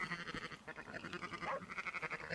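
A flock of sheep in Red Dead Redemption 2 bleats almost continuously, overlapping wavering calls at moderate volume with steady ambient noise beneath.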